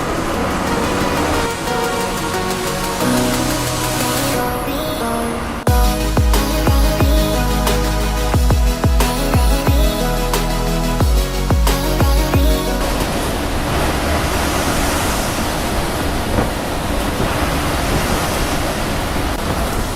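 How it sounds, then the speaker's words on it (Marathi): Heavy monsoon rain drums steadily on a state transport bus on its way from Kolhapur to Marleshwar, with wipers sweeping the windscreen and the engine droning underneath, loud and continuous, with a brief rhythmic patch of low thumps partway through. "पाऊस किती जोशमध्ये एकदम फुल त्याच्या जोशमध्ये चालू आहे आणि आपला वायपर पण फुल जोशमध्ये"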